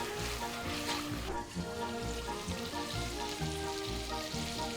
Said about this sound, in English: we're going to cook them on a low flame with a lid on all sides